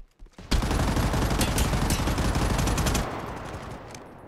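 Rapid automatic gunfire bursts loud and close in the shooter game High Energy Heroes, a dense stream of shots lasting about two and a half seconds before cutting off, followed by a faint tail.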